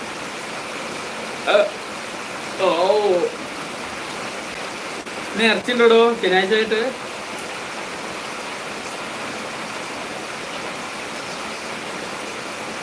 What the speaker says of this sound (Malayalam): അപ്പോൾ നല്ല മഴ. അപ്പോൾ മഴ ഇല്ലാത്തവരൊക്കെ ഒന്ന് മഴ കാണിക്കും ചെയ്യാം.